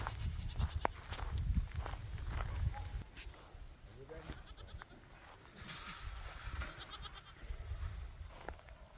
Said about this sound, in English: Next is all the goats.